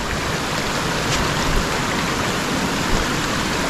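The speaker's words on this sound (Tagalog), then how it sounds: "Ito yung sapa na dun sa baba" A creek below a paradise-like river rushes steadily, a dense, even wash of flowing water that holds at close range with no letup and no voices.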